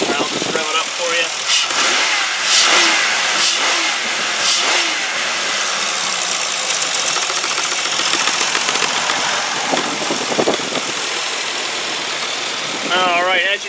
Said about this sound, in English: I'll just rev it up for you.